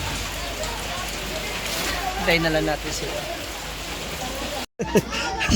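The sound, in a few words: heavy rain falling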